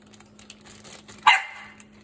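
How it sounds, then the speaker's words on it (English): A single sharp, high bark from a 3-month-old American Bully puppy rings out against a quiet background, followed by a brief fading tail. "Oh my God, she's barking."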